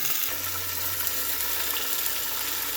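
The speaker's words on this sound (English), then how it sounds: "And all we want to do is just sear these bad boys up." Thin-cut pork chops sear in a hot pan with a steady, close sizzle and light crackle, with no talking.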